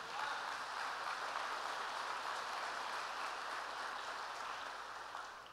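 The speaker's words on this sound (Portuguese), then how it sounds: "Dê um aplauso ao Senhor Jesus." A church congregation applauding during a Portuguese-language celebration service, a steady wash of clapping from many hands that holds evenly and fades slightly at the end, heard at a moderate distance.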